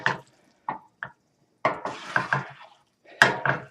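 Pasta with vegetables and tomato sauce is scooped and stirred in a pot for a Tuscan-style beef dish, giving several short, close clinks and scrapes in irregular bursts, with no talking.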